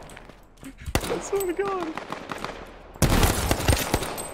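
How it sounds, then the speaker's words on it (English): Pistol fire in Z1 Battle Royale: sharp in-game shots crack out amid excited talk, with a sudden loud burst of gunfire near the end. "Shoot him with the pistol."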